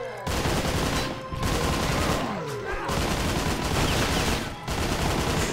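Heavy, continuous gunfire aimed at a large enemy in the shooter Painkiller: Hell and Damnation: a loud, dense rattle of rapid shots in sustained bursts, briefly broken by short gaps.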